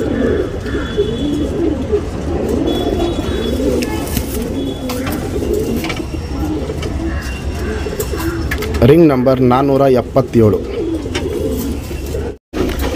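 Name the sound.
tournament pigeon cooing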